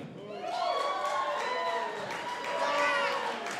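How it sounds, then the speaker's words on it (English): A crowd at a freestyle rap battle cheers and whoops loudly for about three and a half seconds, raised voices overlapping in a dense, sustained roar of approval. "we're determined by crowd applause"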